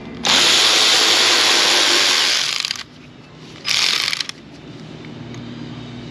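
A power tool loosens 10mm manifold nuts on a Jeep Wrangler 3.6 Pentastar, first in a loud, sustained whir of a couple of seconds, then in a second shorter burst, close up with no speech.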